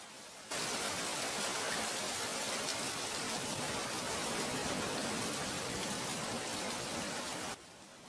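Cartoon rain pours as a dense, even wash of hiss that starts abruptly and cuts off sharply after about seven seconds, steady throughout with no voices.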